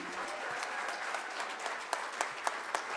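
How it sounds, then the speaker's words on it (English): Applause from an audience at a high school winter jazz concert, a dense steady clatter of many hands clapping, close and moderately loud, with no voices over it. "Again, keep your applause for Benji, Anna, Cora, Steve, Paul, Nick, Eli"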